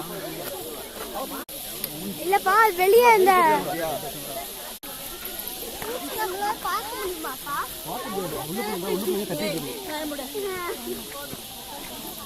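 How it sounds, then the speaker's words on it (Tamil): Insects call loudly in a forest as a steady high-pitched hiss that runs throughout, with talk and chirpy voices layered over it nearby. "இங்க ஒரு பூச்சி இருக்காமா, அது கத்தி கத்தி அதுவே செத்துருமாமா."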